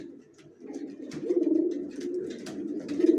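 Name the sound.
male racing pigeon cooing to attract a mate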